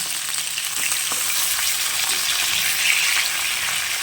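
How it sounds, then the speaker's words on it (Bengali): Cumin seeds tempering in hot oil give a loud continuous close sizzle, a dense crackling hiss with faint stirring knocks, and no voices. "জিরেটা ফোড়ন দিয়ে দিয়েছি জিরেটা লাল হয়ে গেছে"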